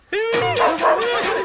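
A dog barks in a comedy film scene: one sharp bark, then a couple of whining, yelping follow-ups, loud and close against a quiet background.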